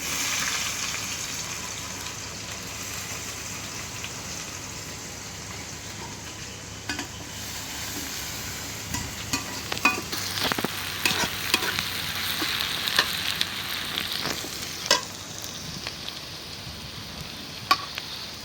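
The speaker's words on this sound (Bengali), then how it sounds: "এখন দিয়ে দিলাম পেঁয়াজ।" Onions sizzle steadily in mustard oil in a pan, close and continuous, while a spoon stirs them with scattered scraping and clinking against the pan.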